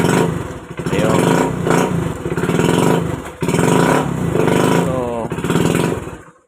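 A motorcycle engine, after a stator replacement, revs loudly up close in repeated throttle blips, rising and settling, with a brief dip midway before dying off.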